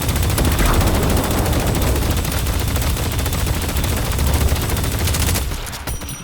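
Rapid automatic gunfire in the video game Deadlock, a full magazine emptied in one loud, unbroken stream of closely spaced shots that cuts off near the end.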